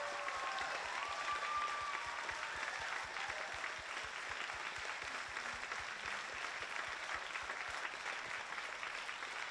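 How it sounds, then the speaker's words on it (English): Sustained applause from a room audience honouring military veterans, a dense, even roar of many hands clapping that holds steady at moderate level for the whole stretch, with faint crowd murmur beneath. "let's give them a very big round of applause"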